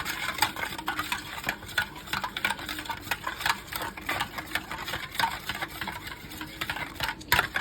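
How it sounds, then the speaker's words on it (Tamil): Four eggs with a little sugar are whisked briskly in a bowl, giving a steady, rapid clicking and scraping rhythm close up, with no talking. "4 முட்டை தான் ஊற்றிருக்கேன். அதில் கொஞ்சோண்டு சர்க்கரை போட்டுட்டு இதை ஃபுல்லாக கரைச்சிக்கணும்."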